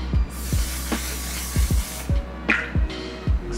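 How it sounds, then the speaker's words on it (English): Makeup setting spray is misted over powdered skin in a few short, close spritzes, each a quick airy hiss, mixed with soft low taps and handling noise. "I'm also going to take a setting spray right now and"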